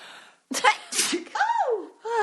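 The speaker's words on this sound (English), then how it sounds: "I have to sneeze." One sharp sneeze bursts out, followed by a short breathy sound, with a voice speaking right after.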